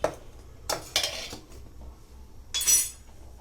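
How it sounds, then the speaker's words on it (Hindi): Sugar poured into a pot of rice kheer and stirred with a metal spoon, bringing a few close clinks and scrapes against the pan, then a louder rattling stir. "ये चीनी डाल देते हैं इसमें।"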